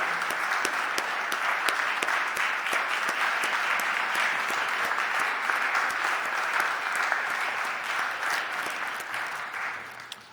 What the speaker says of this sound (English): Can we all give a round of applause to Mr. Asil Greer?